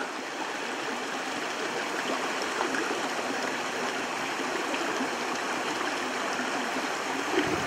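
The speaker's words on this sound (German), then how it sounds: "Hier ist der Zulauf zu diesem kleinen Wasserfall." A stream feeds into a small waterfall in the countryside near Bad Westernkotten, its rushing, splashing flow steady and continuous throughout with no voices.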